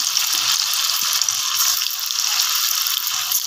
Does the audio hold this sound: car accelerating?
no